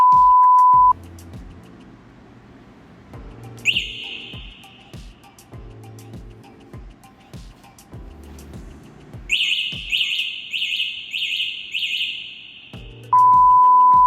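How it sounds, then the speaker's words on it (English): A Wing Freedom 2 e-bike's anti-theft alarm cycles through loud shrill beeps, warbling tones and chirping siren bursts, repeating in patterns close by, with a bright steady tone at the start and end. "if you try to move the bike, it will just start screeching an alarm off"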